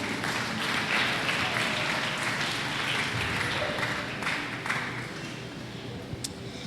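A church congregation breaks into sustained applause during a French-language service, a dense wash of clapping that swells, then gradually thins and fades over several seconds.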